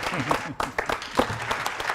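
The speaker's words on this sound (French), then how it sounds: "Applaudissements pour Gérard de Cortens pour son bouquin qui s'appelle Laisse tomber les filles" Applause for a book author on a talk show, a short burst of clapping mixed with overlapping voices and laughter close by.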